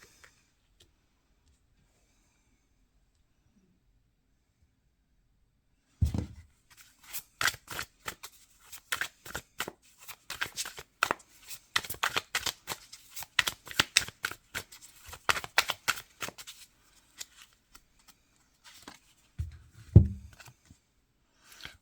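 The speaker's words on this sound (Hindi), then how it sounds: "आपके जो अब के कार्ड्स आए हैं जो मैंने अभी निकाले हैं" A deck of tarot cards is shuffled and drawn by hand. Steady, crisp riffling and flicking runs for about thirteen seconds after a silent start, then a couple of soft handling thumps follow.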